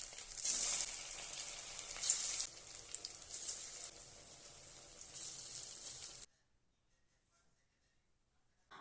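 Small shrimp fritters frying in hot oil over medium-high flame, a continuous close sizzle with crackling bursts for about six seconds, then an abrupt cut to near silence.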